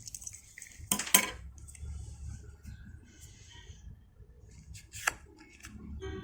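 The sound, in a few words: cutting with scissors to measured length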